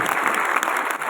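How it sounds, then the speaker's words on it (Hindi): An audience applauds loudly at a seminar event, a dense, continuous crackle of many hands clapping close by. "मम्मी और पापा के लिए एक बार जोरदार वाली तालियां"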